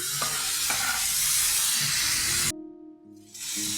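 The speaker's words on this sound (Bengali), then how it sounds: "দিয়ে মশলাটা একটু কষে নেই।" A paste of coriander powder, cumin powder, turmeric, chili paste and salt fries in a pan for a paneer curry, giving a loud, close, hissing sizzle with stirring scrapes that cuts out for about a second, then resumes.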